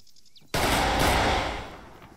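Burst of automatic gunfire in the ARMA 3 video game, a sudden loud barrage that breaks into quiet and then rolls on with echoing, gradually fading reports.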